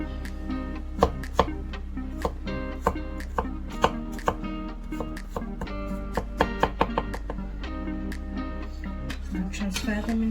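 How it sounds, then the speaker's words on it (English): Garlic is chopped with a knife on a board in a run of sharp, fairly regular knocks, some in quick bursts, over steady background music. "Now you can chop up the garlic."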